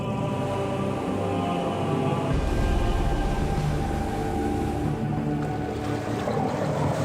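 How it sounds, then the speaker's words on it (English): A boat reversing on the open ocean to draw in oceanic white-tip sharks, its engine a steady low drone with churning water and wind, continuous and fairly close, with no voices. "You notice how we're backing the boat up?"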